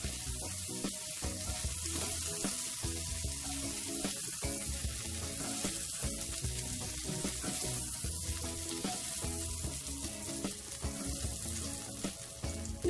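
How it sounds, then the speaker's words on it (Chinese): Shrimp searing in a hot wok, a steady bright sizzle with crackling pops and faint clinks of a utensil, close and continuous with no talking. "先煎一煎这个虾先，每边大约煎佢1分钟就得噶啦"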